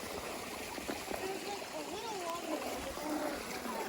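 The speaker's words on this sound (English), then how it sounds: "it makes this nice little stream that kind of makes its way through the woods" Water trickles and splashes in a small stream flowing out of an old rock dam in the woods, a faint, continuous babble with people talking over it.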